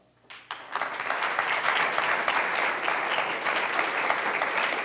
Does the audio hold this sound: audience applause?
yes